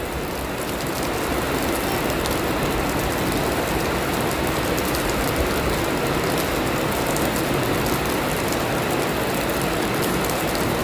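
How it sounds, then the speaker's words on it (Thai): Rain falls steadily, a dense, even hiss of drops on surfaces that continues unbroken and fairly loud throughout, with no one speaking. "แต่ฝนตกนะบิว"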